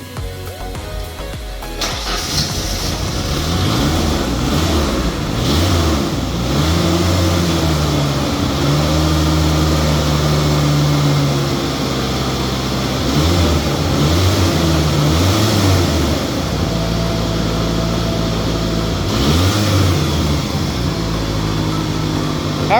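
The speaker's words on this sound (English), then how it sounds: "Rev it up a little bit." A 1996 Ford Ranger engine revs up from idle to a loud, sustained drone, swelling and falling in several repeated throttle surges close by.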